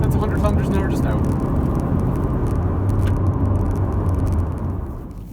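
A 2016 Hyundai Tucson Comfort Plus accelerates up through the gears toward 100 km/h, its engine and road noise forming a steady, loud cabin rumble that fades slightly at the end.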